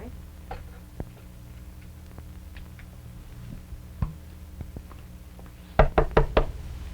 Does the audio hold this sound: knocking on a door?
yes